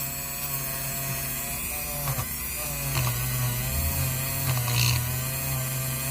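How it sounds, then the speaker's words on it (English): An antique Curtis Model E key clipper machine cuts a key from the first cut to the end cut, giving a steady, loud mechanical grind and ratcheting whir that continues throughout, with brief rises in intensity as the cutter bites. "we calibrated it so the machine cuts right on, all the way from the first cut all the way to the end cut"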